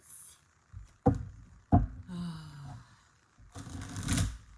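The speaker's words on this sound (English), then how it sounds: "Is she shuffling the tarot cards?" Tarot cards are shuffled during a live reading, with scattered soft taps, riffles and knocks separated by pauses, and faint vocal sounds in between.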